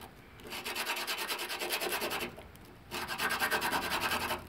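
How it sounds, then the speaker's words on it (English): Sandpaper of 100 grit rubbed over a rusty part from a 1999-2004 VW Beetle on a flat surface, giving steady rhythmic back-and-forth scraping strokes, close and fairly loud, with a short pause midway before resuming. "you want to put this on a flat surface, sand it and rotate it"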